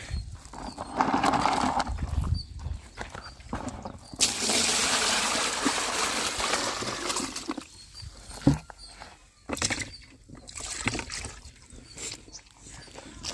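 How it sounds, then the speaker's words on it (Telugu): Bran water for a goat is poured from one bucket into another, a rushing splash that rises for a few seconds amid other faint farmyard noises and quieter gaps. "ఈ బకెట్ వాటర్ని తీసుకెళ్ళి ఈ బకెట్లో పోయాలి"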